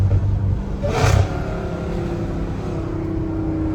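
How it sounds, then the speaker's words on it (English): An 850-horsepower Dodge Challenger Hellcat Redeye engine roars loud and close, revving up sharply before settling into a steady, rumbling drone. "I'm barely pushing this car right now. It's too loud"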